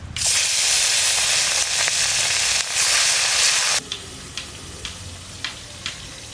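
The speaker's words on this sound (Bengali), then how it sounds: "এইভাবে সব মাছ কটা আমি ভেজে দেবো।" Khoira fish frying in a pan of hot oil, a loud, steady sizzle that suddenly drops to a quieter crackle with a few sharp pops near the end.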